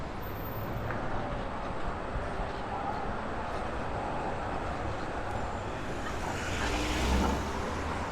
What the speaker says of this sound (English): this corner is too busy and noisy to vlog on